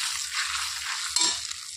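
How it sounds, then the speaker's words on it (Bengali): Black cumin, turmeric and Kashmiri red chili powder fry in hot oil, a loud, steady, hissing sizzle close up with a brief stir-like crackle partway through and no talking. "এখন ওই তেলের মধ্যে দিয়ে দিচ্ছি কালো জিরে, হলুদ 1 চামচ, কাশ্মীরি রেড চিলি পাউডার"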